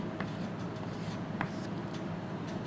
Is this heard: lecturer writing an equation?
yes